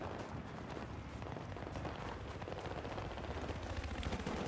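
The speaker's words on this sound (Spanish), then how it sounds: "son ráfagas de dos tiros" Gunfire in the video game Battlefield 3, a weapon firing two-shot bursts, comes as repeated sharp crackling shots over a dense, busy battle din at moderate level, with no speech.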